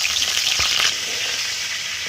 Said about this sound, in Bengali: তো পটলগুলো ভেজে নেবো।